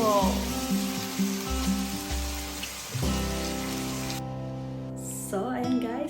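Longganisa sausage sizzling and frying in a pan, a loud steady crackle close up with occasional stirring and a brief pause near the end.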